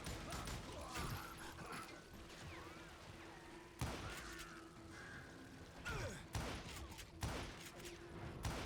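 Video game gunfire in a Wild West setting, with several sharp shots spread across the stretch against a steady background hum, moderately loud, with occasional shouts mixed in.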